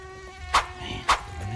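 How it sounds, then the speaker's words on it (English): Mosquitoes whine outdoors in a steady, thin, high hum, with two brief louder swells as one passes close by the ear. "Mosquitoes."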